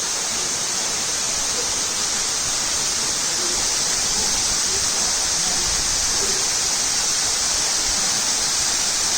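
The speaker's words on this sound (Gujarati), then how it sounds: "અવાજ સાંભળો પાણીનો." Medha waterfall in a forest near Songadh roars steadily and loudly, a dense unbroken rush of falling water with no pauses.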